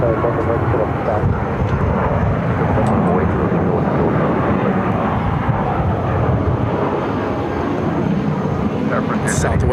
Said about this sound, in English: Southwest Airlines Flight 4671 headed to Memphis